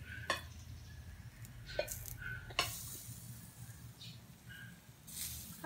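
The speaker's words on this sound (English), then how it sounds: "Yeah, it's cooking nicely, even we just made that barbecue ourselves" Meat sizzles on an improvised homemade charcoal barbecue in Butuan City, a steady low crackle and hiss with scattered louder pops and brief higher squeaks close by.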